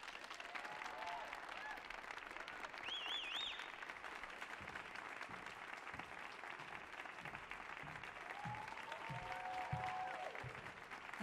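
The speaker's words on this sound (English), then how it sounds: "give a great big round of applause for a young woman who definitely rocks next" Audience applause welcomes a performer to the Millennium Stage at a BLACK GIRLS ROCK! Fest concert, a steady wash of clapping heard at a distance with a voice speaking over it.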